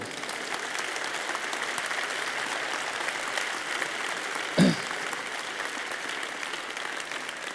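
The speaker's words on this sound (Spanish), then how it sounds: "Esto ya es de aplauso. Vamos a aplaudir." Steady applause from a talk audience fills the whole stretch, even and continuous, with one brief louder knock partway through.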